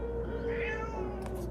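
A cat meows once, a drawn-out rising and falling call over a steady indoor hum, followed by a couple of faint clicks.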